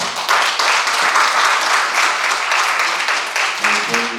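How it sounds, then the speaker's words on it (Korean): A crowd claps in sustained applause, loud and even for several seconds before tapering, with a voice coming in near the end. "축하의 박수를 다시 한번 드리고 싶습니다"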